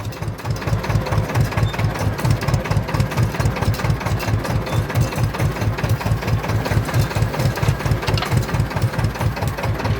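A Ursus C-330 tractor engine idles loudly nearby, its rapid, even knocking chugs repeating steadily without a pause.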